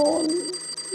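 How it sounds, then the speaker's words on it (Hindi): An alarm clock rings with a steady, bright electronic tone, loud and close, heard for only a brief moment. "अलार्म बज रहा है।"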